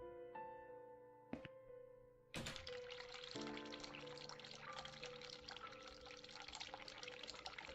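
Cold tap water runs from a sink in The Cat Lady game, a steady hissing stream that starts abruptly after a brief clunk and a short tonal chime and continues unbroken under a low musical drone, with no talking.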